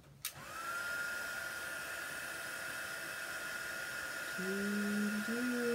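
A heat embossing gun heating card pieces, starting with a click and then blowing as a steady, loud, close whirring hiss with a high whine that holds to the end, no voices.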